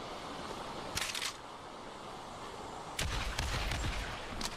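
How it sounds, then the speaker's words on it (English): Gunfire in a video game, two loud bursts of shots roughly two seconds apart over steady background noise, with no talking. "Oh, I just shoot him right there."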